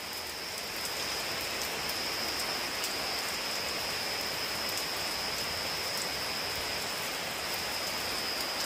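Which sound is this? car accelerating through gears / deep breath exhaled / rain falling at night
rain falling at night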